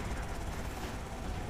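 A damaged helicopter in GTA Vice City gives off a steady, dense rotor and engine drone, loud and unbroken, with no speech.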